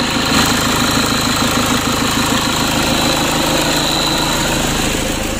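A rebuilt Toyota Innova 2KD diesel engine idles steadily and loudly up close, with a continuous low rumble and knocking vibration that holds without change.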